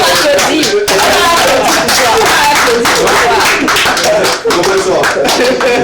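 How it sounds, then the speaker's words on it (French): A studio audience claps for a French-language cultural television program, a dense, loud wash of clapping that runs continuously with only brief dips. "On applaudit."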